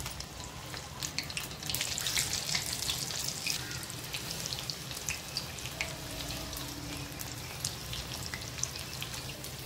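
Corn bhaji fritters fry in hot oil, giving a steady close crackling sizzle that holds throughout with scattered pops and no talking.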